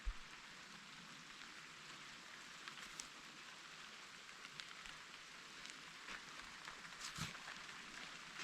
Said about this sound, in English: The Lord sent some rain.